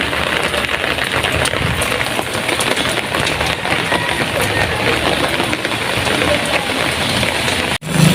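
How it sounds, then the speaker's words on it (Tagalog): Steady rain hisses loudly and evenly throughout, with a low engine-like rumble underneath, ending in a brief dropout. "medyo umuulan"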